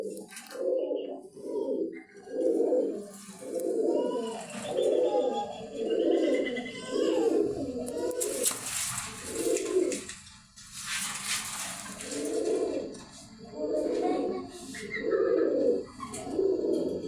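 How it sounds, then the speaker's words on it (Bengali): Raj golla pigeons in a loft cooing in a steady run of soft, rounded throaty calls repeating about once a second, close and fairly loud, with brief wing flutters and background rustle midway. "এই যে জোড়া আছে রাজগোল্লা কবুতর"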